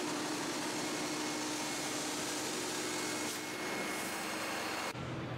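A professional water extractor runs during a suction test, a loud, steady motor roar and rushing airflow filling the whole stretch, with a slight shift in tone near the end.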